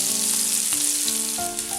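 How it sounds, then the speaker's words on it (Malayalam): Hot tempering of broken dried red chilli and curry leaves poured into a koonju (mushroom) masala curry gives a loud, continuous sizzle and crackle over its short length. "ഈ വറുത്തത് കറിയിലേക്ക് ഒഴിക്കാം."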